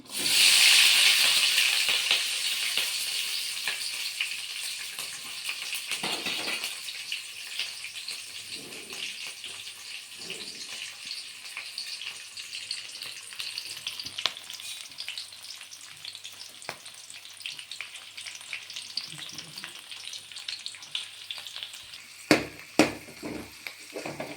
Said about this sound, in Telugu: ఇవి కొంచెం ఫ్రై అయినంత వరకు ఫ్రై అయ్యేంత వరకు వేపుకోవాలి